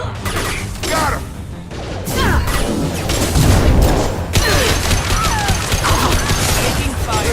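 Gunfire crackles in Mass Effect 2 with loud, dense bursts of shots, crashes and impacts, over mechanical clatter and the constant din of combat.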